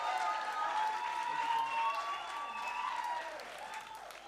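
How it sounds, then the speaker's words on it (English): At a scholarship gala, audience applause and crowd noise blend with sustained tones of music or singing, holding at a moderate level for several seconds. "A round of applause for our incredible ACT family talent."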